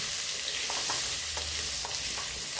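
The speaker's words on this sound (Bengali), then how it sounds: "এবার আলুটা ভেজে নেব। এটাও একটু লাল" Potatoes frying in mustard oil give a steady, close hiss of sizzling with a few soft stirring scrapes, no voices over it.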